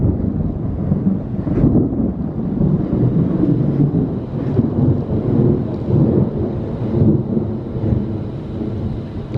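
Thunder rolls through a storm in a steady, loud, low rumble with rain and wind buffeting the microphone, a continuous dense roar with no voices.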